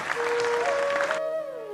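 A burst of crowd applause welcomes a speaker at a public talk, clapping for about a second before cutting off abruptly, leaving a sustained electronic tone that glides and fades.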